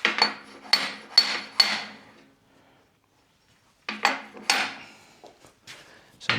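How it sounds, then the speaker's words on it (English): Hammer tapping frame parts into their seats: four crisp, ringing knocks in quick succession, a pause of near silence, then another burst of several sharper taps and lighter knocks, close and fairly loud. "So I'm just tapping everything home with a hammer, just making sure it's all seated."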